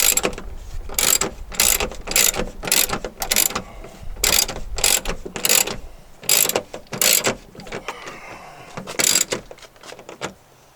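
A ratchet tightens dash bolts on a 2006 Jeep Wrangler TJ with rapid, close clicking strokes in quick bursts, pausing briefly between runs and easing off toward the end.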